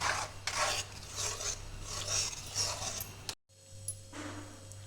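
Black salt being stirred into ragda in a pan at home: steady scraping and rasping strokes repeat close up, then after a brief drop-out a quieter stretch with a steady hum and a faint final scrape.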